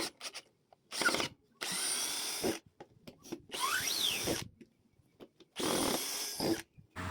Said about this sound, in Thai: เดี๋ยวเรามาทดลองโหมดขันสกรูกันบ้างนะครับ